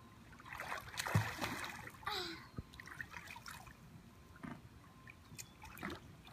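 A child kicking legs in a swimming pool makes irregular light splashes and trickles, with an adult calling out encouragement over the water.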